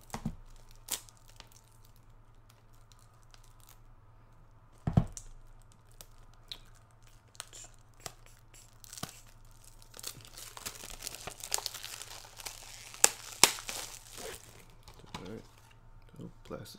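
Plastic wrap is peeled and torn off a Kingdom Hearts game box by fingernail, with close, intermittent crinkles and crackles that grow busier toward the end over a faint steady hum.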